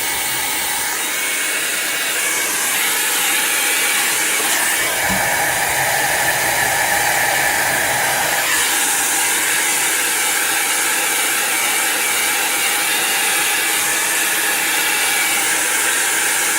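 A heat tool blows on high heat over alcohol ink, a loud, steady, close whooshing drone of rushing air that runs without a break.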